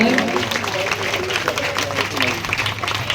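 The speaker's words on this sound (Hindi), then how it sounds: "सभी जोरदार ताली बजाएं।" Audience at a Bhagwat Katha religious gathering clapping to welcome guests, a steady mass of applause filling the space, fairly close and continuous with some voices mixed underneath.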